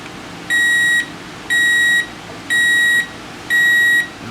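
Sunbeam 887-05 alarm clock sounding its alarm: four evenly spaced, loud, clear electronic beeps, each about half a second long, alone in a quiet room.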